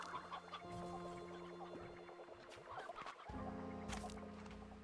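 Chickens clucking on a ranch in the video game Slime Rancher 2, a busy overlapping chatter of several birds over steady background music.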